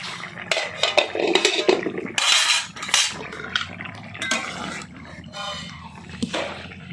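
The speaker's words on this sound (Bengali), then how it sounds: "এবারে ঢাকনাটা খুলে নিচ্ছি" A metal lid comes off a cooking pot of potatoes with a series of sharp clanks and rattles, loud and close, spaced irregularly over several seconds.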